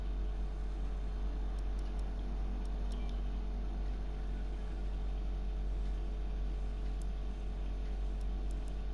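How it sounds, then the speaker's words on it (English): A car engine drones in a racing video game on the Monaco circuit, a steady loud hum with a deep low rumble throughout, a few faint clicks above it and no voices. "Engine's too loud."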